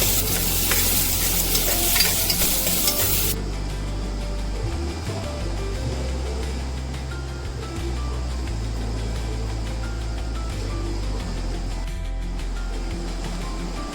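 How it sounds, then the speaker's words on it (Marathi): Onion and whole spices fry in hot oil for a spicy Khandeshi mutton curry, giving a loud, dense sizzle that settles into a steadier crackle alongside a low constant hum and occasional stirring scrapes. "कांदा आपल्याला चांगला परतायचा आहे"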